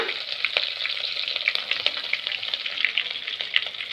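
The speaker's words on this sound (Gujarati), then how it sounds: "રાઈ એકદમ પાકી જાય પછી લીમડાના પાન નાખવાના બે ત્રણ મરચાં નાખ્યા" Mustard seeds, curry leaves and green chillies sizzle and crackle in hot oil for a Gujarati tempering, a continuous close frying hiss dotted with sharp popping bursts.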